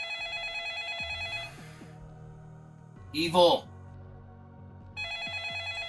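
A telephone rings in bursts, a bright electronic trill that stops, leaves a gap where a voice briefly speaks, then starts again at the end.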